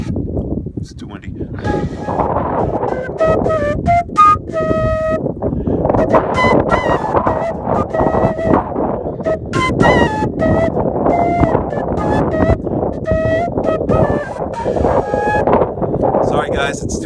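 Strong wind buffets the microphone on the summit of Mt. Katahdin, a continuous roaring rumble heard alongside a flute being played and someone talking.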